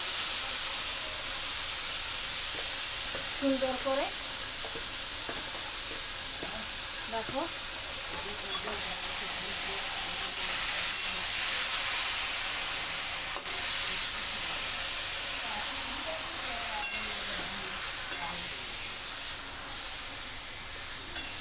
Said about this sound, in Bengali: এই কড়াইয়ের মধ্যেই এবার আমি এই মাংসটা ছেড়ে দেব